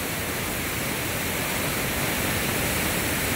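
Water rushes at Hogenakkal Falls as a loud, unbroken roar of heavy flow, steady and wide-band throughout with no other sound standing out.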